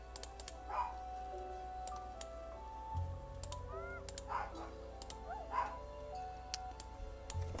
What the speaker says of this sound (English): I'm sorry the dogs are barking again.